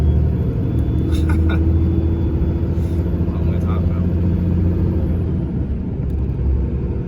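An HGV truck straining on an Irish backroad with its wheels spinning, heard as a loud, steady low rumble of the engine and drivetrain throughout, with a few faint higher clanks.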